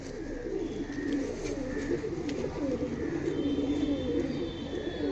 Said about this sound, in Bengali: তিনটেই মেল পায়রা